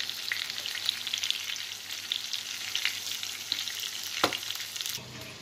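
Paneer frying in a pan, a steady close sizzle with faint stirring scrapes and one sharper clatter near the end, no voices.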